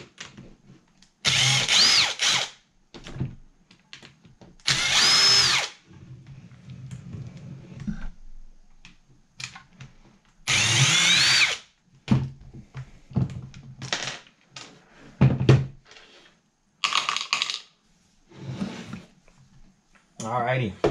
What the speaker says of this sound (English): So I'm going to go back to cheating with my impact and go ahead and pull these side cover bolts off.